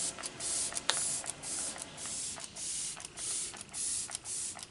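A makeup setting spray from Glow Recipe's Glam Glow line hisses in a series of short bursts, several quick pumps in an irregular rhythm, close and fairly quiet with no talking.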